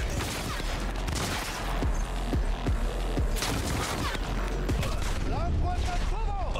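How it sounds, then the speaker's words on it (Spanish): Rapid gunfire rattles in the video game Cyberpunk 2077 during a firefight at a luxury hotel, with repeated sharp shots and booms over a loud dense background, and a voice talks over part of it. "Vamos a liarnos a tiros."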